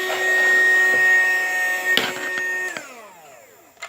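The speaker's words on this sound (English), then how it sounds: "So, this is supposed to be a little desk vacuum." A mini Henry desk vacuum cleaner runs close up with a steady high motor whine, then switches off and its pitch slides downward as it winds down.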